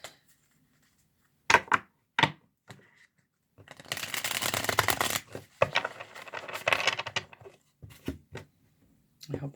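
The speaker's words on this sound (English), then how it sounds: "Let's go ahead and get these cards shuffled" Cards being shuffled up close: a few sharp snaps, then a long riffling burr, followed by more scattered flicks and taps.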